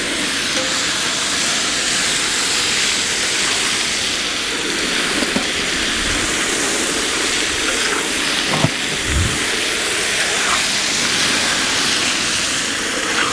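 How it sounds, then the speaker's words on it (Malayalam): Chicken coated in ground ginger-garlic paste fries in hot oil on a tawa, giving a loud, steady hiss that runs unbroken throughout with a few faint clicks and pops. "അപ്പോൾ എണ്ണ ചൂടായിട്ടുണ്ട്. ഇനി അരച്ചെടുത്ത ഇഞ്ചി വെളുത്തുള്ളി, ചിക്കൻ തവയ്ക്ക് വേണ്ടി നമ്മൾ ചിക്കൻ ഇടാൻ പോണ്."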